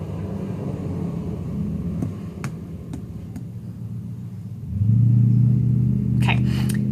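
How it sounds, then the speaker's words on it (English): A car passes outside, its engine a low rumble that swells loudly near the end as it draws close, heard from indoors with a quiet room behind it. "do you hear this car?"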